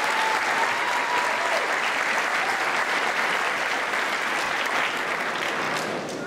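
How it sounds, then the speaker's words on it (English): Graduation crowd applauding teachers of the Fulton City School District, a sustained, even roar of clapping from a large audience at a steady level, with faint voices underneath. "let's hear a round of applause for all the awesome teachers in the Fulton City School District"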